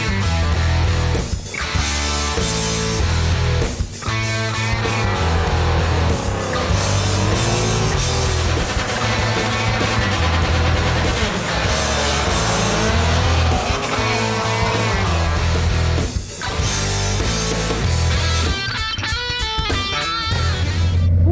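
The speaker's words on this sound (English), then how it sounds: "we're gonna start up the Ram. We'll get a cold start." A Hemi-powered Ram truck with a Whipple supercharger starts cold and settles into a loud, steady, lumpy idle with rhythmic choppy pulses, close and continuous with no talking.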